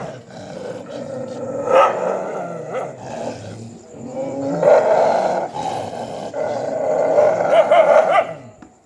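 Stray dogs on a street growl and bark in rough, overlapping bursts, moderately close and rising in intensity toward the end, over a muffled outdoor background.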